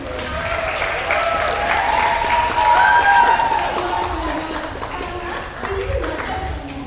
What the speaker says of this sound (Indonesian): Tepuk tangan dong buat WLCC.